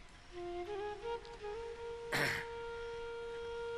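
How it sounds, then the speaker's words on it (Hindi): A man clears his throat once in a loud, harsh burst partway through, over a steady background tone and soft hum at a yoga session. "ये मैंने थोड़ा खांसा तो तुमने सोचा कि खांसना भी जरूरी है।"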